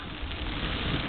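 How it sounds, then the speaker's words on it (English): Steady rain falling around a rider cycling through a night of thunderstorms on a long-distance mountain bike race, a dense, even hiss that stays constant and fairly loud throughout. "It's raining. This is pretty miserable."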